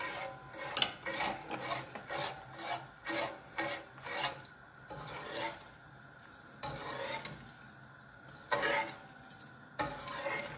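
A utensil rubs and scrapes in rhythmic strokes against a pan while marinade for preserved red bell peppers is stirred, the bursts coming in quick runs separated by short pauses, close and fairly quiet.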